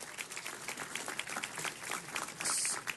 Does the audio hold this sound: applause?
yes